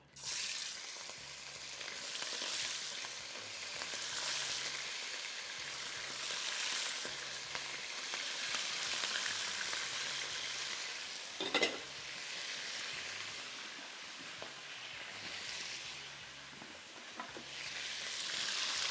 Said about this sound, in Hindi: तेज़ आंच पे फ्राई करेंगे शुरू में।